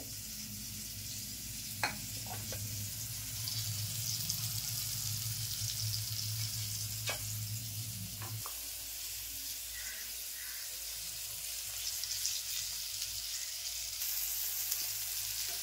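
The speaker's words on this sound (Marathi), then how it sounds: "आधी मोठे मासे भाजून घेणार ना सगळे?" Large fish fry in a pan with a steady, close sizzle that runs throughout, with a few sharp clicks of utensils and a low hum that cuts out partway.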